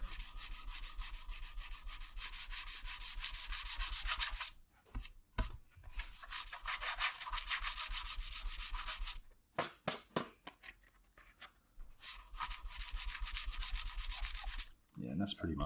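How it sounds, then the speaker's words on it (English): Sandpaper worked over the colour coat on a wooden acoustic guitar body from a DIY kit, in steady close rasping strokes with a few brief pauses and taps between passes. "I'll just keep sanding that one area."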